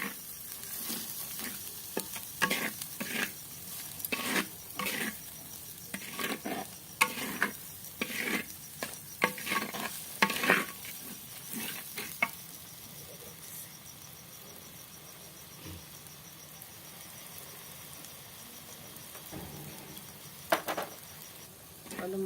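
Spice masala with Kashmiri red chilli and salt being stir-fried in a clay kadai, soft sizzling underneath while a spatula scrapes and stirs in irregular bursts, close and fairly quiet, with no talking.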